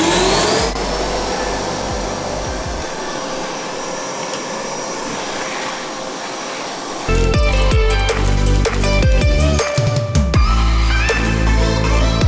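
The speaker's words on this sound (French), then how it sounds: "un aspirateur sans alimentation qui traîne partout, c'est quand même la vie." A cordless vacuum cleaner runs in boost mode, a loud, steady high-pitched whine and airflow roar close by, joined later by rattling and clattering as it picks up debris.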